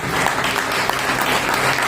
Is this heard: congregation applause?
yes